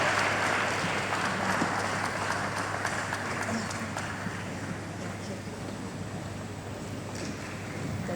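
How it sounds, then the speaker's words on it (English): A conference audience at a property event in Lagos applauds steadily as a panelist joins the stage, a broad, continuous wash of clapping that holds for several seconds. "Please, let's give a round of applause to Lolo One of Africa as she joins us on stage."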